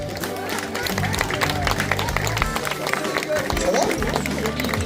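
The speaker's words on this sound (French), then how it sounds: "On peut les applaudir bien fort" Audience applause on a group trip day in Sardinia, a dense wash of clapping mixed with crowd murmur and voices, steady and fairly close for several seconds.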